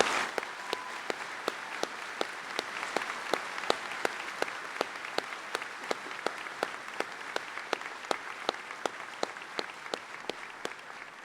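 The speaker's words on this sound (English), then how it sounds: "Let's have a nice round of applause for all these young men and women." Applause at a high school senior assembly: steady crowd clapping that runs the whole time with regular sharper accents at a rhythmic beat, fairly soft and a little distant, with no talking over it.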